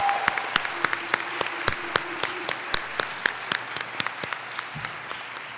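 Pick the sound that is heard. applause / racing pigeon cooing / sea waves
applause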